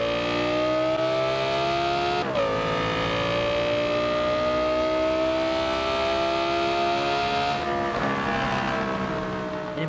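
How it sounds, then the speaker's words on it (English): V10 car engine in the Forza Horizon 2 video game, a loud steady high-pitched wail rising gradually through the revs with two brief gear-shift dips, heard alone. "It has the best sounding V10 engine ever in my opinion."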